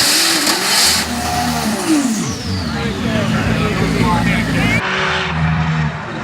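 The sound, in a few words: Nissan GT-R drag racing car at full throttle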